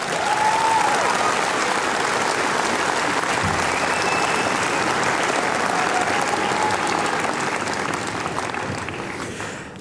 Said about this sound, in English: Let's all of us give ourselves a big round of applause